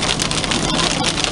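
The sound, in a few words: heavy rain on car while driving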